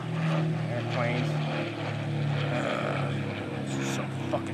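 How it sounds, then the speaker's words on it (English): A propeller airplane passes overhead in a steady, loud, low drone that fills the whole stretch, with layered engine hum and no clear rise or fade. "Ugh. Airplanes."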